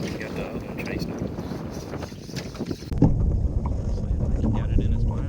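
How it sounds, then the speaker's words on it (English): Strong wind gusts buffet the microphone out on a rough lake while a fishing boat rocks and slaps on choppy water, a close, roaring wash throughout that grows heavier near the end. "Wind's done picked up, got rough."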